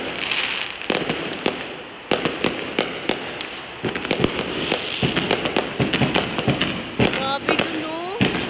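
Rapid strings of firecracker and firework blasts crackle through a Chinese New Year night, dozens of sharp reports in quick irregular bursts, with voices heard near the end.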